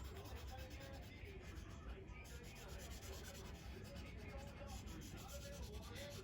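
Pencil scrubbing shading onto paper for a cylinder drawing, a steady, close, continuous rubbing scratch lasting throughout at low level, with no talk over it.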